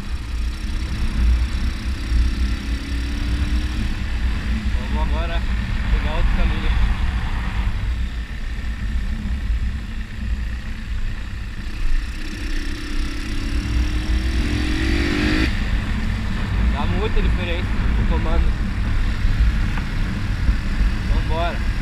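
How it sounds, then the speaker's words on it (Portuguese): A Honda Titan 150 motorcycle engine with iridium spark plug and modified camshaft hums at top speed with wind rushing past, the pitch shifting through gear changes, and a voice talks now and then underneath. "Então vai ficar só o som da moto e do vento."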